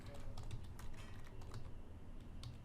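Rapid, quiet typing on a computer keyboard, keystrokes clicking in uneven quick runs close by, with no voice over them.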